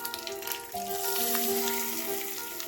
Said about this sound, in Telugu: ఈ తాలింపుని పచ్చడిలో వేసుకుందాం